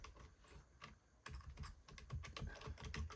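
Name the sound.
typing on a computer keyboard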